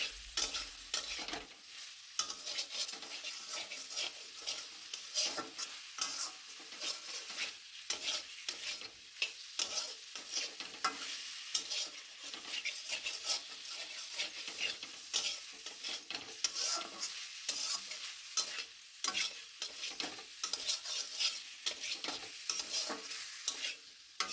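Masala and boiled potatoes frying in mustard oil, a continuous close sizzle broken by frequent stirring scrapes and knocks of the spoon in the pan, no voices.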